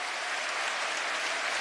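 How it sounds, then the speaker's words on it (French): A stadium crowd at a Roma versus Juventus match applauds Mohamed Salah, a dense, even roar of clapping and cheering heard from a distance for a brief moment. "Applaudissements, ovations pour Mohamed Salah."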